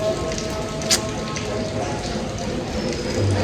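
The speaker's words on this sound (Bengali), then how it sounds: "4 দিন ধরে বৃষ্টি পড়ছে।" Steady rain pours down after days of continuous wet weather, a dense, unbroken hiss of drops on surfaces throughout, with one brief sharper spatter partway through and no talking.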